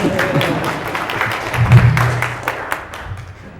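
A talk audience claps in scattered applause that swells briefly and then fades, heard from within a large room.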